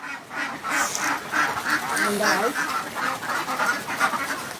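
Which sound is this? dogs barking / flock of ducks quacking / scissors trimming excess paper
flock of ducks quacking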